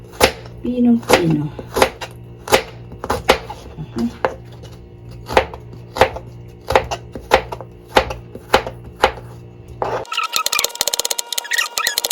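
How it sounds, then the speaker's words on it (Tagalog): A knife chops rapidly and evenly on a cutting board, crisp close strikes in a steady rhythm, ending with a burst of rustling noise. "isa-slice na lang siya natin. Pipinuhin natin."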